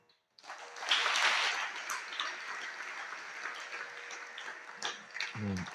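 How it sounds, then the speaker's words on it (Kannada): Audience at a religious discourse in a village clapping loudly together, a sustained burst of applause that starts abruptly after a brief quiet and slowly thins out, ending with a short low thump. "ಜೋರಾದ ಚಪ್ಪಾಳೆ ಹಾಕಿ"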